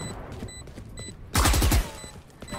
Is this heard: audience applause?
no